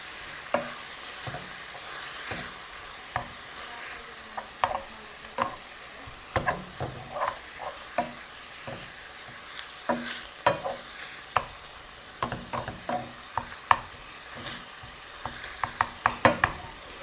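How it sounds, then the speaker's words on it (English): Ground meat for tacos sizzles steadily in a pan, quiet and close, punctuated by frequent sharp scrapes and clicks of stirring. "It's really sizzling."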